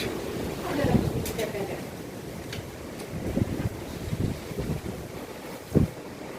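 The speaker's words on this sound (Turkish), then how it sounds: "Yani şöyle bir rüzgar." Wind buffeting the microphone in gusts, low rumbling bursts over a steady breezy hiss outdoors, with faint voices.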